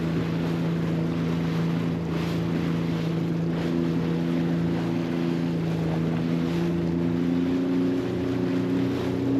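A jet ski heads out of a marina in the Whitsundays into slightly choppy water, its engine droning steadily and loudly throughout, with wind buffeting the microphone and water splashing.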